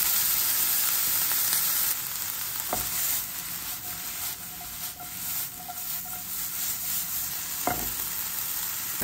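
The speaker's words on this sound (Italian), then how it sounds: "Mettiamo una cipolla, facciamo rosolare tutto insieme e un cucchiaio di capperi." Onion, capers and eggplant browning together in a frying pan give a steady close sizzle, with occasional stirring scrapes and light clinks over the hiss and no voices.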